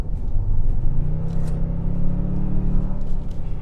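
A 2022 Toyota Tundra i-FORCE MAX hybrid pickup pulls away from a stop, its deep engine note rising steadily in pitch with a loud, close interior rumble and no talking.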